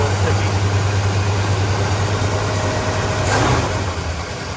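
A 1966 Pontiac Catalina or 1973 Ford LTD engine idles steadily after long disuse, a low rumbling hum with a sticky choke, close and constant, with faint talk over it.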